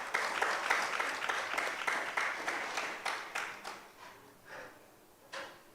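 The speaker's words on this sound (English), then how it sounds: "Give yourselves a round of applause" Community centre audience in Mason Hall, Tobago, breaking into a round of applause: many people clapping, full and fairly close at first, then thinning out into a few scattered final claps.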